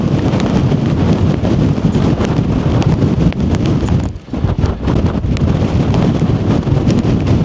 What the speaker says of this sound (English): Yeah, that wind's got up, hasn't it?